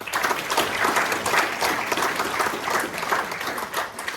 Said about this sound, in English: I'd just like to have another round of applause for them too, please